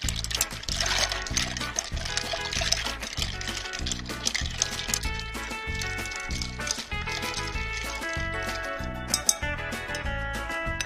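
A cocktail with gin stirred over ice, a continuous busy jumble of clinking cubes and sloshing liquid, close and fairly loud, with a bright tinkling ring running through the latter half.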